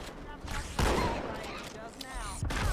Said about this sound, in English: meet my friend Shotgun